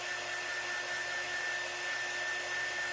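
A hair dryer blowing steadily on a glass lantern craft project, a constant whooshing airflow with a steady whine, close and unbroken throughout with no talking.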